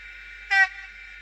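A single short locomotive whistle blast, bright and tonal, sounding once against a quiet background hum.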